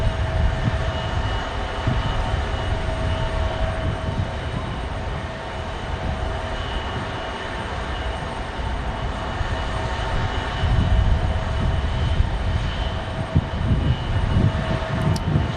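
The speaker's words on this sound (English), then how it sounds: "an E-175 from Alaska Airlines" An Alaska Airlines Embraer E-175 jet at Phoenix Sky Harbor gives a steady, broad engine roar with a faint whine, holding at a fairly constant level throughout, distant rather than overhead.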